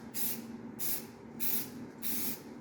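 Four bursts of spray paint applying a coat of primer, each hissing pass lasting about half a second with short gaps between, close and steady with no talking.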